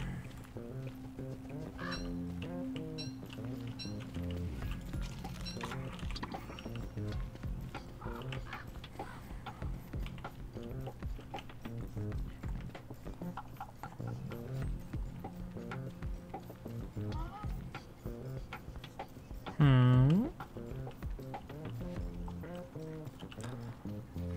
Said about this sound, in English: Is that a tree guard? Sounds like a tree guard.